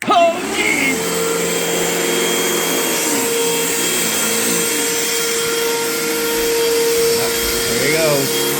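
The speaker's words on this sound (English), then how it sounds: "Vacuuming." A vacuum cleaner runs steadily at close range with a continuous whine and motor hum the whole time, its pitch shifting slightly as it moves, with brief bits of voice near the start.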